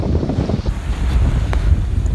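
Steady 15-knot wind buffeting the microphone on a boat off Naxos, a continuous low roar with faint water and hull noise underneath, no voices.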